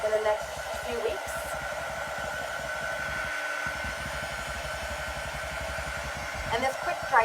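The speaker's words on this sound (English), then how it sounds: "this quick dry tool really is exactly as it sounds. It's quick drying." A Chalk Couture quick dry tool blows steadily to dry paste, a constant close-up whirring hum with a short dip partway through and faint clicks at the start and end.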